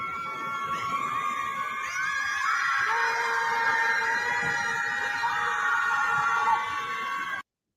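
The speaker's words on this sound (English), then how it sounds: "They're angry at Trump, so they're going to scream at the lake." A group of people screams at a lake in a post-election protest, with sustained, overlapping wailing cries that hold steady and build slightly for several seconds before cutting off abruptly.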